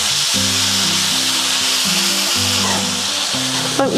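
Tomatoes tipped into onions already frying in a pan for a Wayanad-style fish curry, giving a loud, steady sizzle that runs the whole time, with a low musical tone playing underneath.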